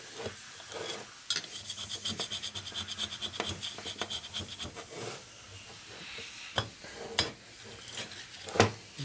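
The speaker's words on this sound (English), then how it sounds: "So you go back to twisting and scraping." A cutter scrapes old gasket material off a Harley-Davidson FXR engine top-end part in close, rhythmic rasping strokes, then a few slower, irregular scrapes and knocks, with no talking.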